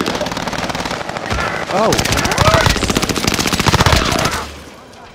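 Heavy video game gunfire crackles in dense, rapid automatic bursts, loud and close, with a short exclaimed voice heard over the shooting.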